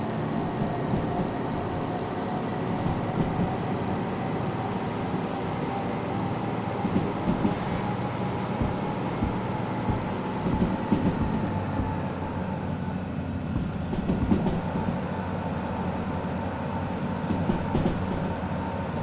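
DH4 diesel locomotive in the game Derail Valley opening up on the rails, a steady loud engine drone with rumbling wheel noise and faint clickety-clack running unbroken throughout.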